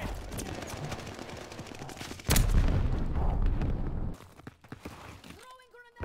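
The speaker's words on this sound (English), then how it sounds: "Tossing grenade." Combat in the shooter Call of Duty Vanguard: a sudden loud blast, likely a thrown grenade, breaks through steady gunfire, rumbles for a couple of seconds and then fades into quieter sounds.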